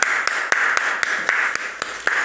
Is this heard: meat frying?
no